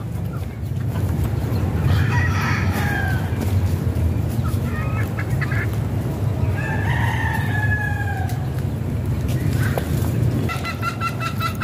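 Several roosters crow over a steady hum of background noise, with hens clucking in between; the crows are loud and repeated, rising and falling.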